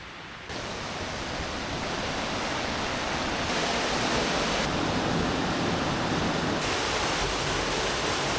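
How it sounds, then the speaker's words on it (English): Waterfall at Great Duke Cave in the Yorkshire Dales, a steady broadband rush of falling water that swells slightly louder partway through and stays constant and close, with no voices. "We've got another waterfall which we wasn't expecting, and it is just beautiful."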